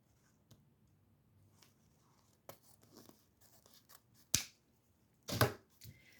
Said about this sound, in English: I'm going to cut this off right here.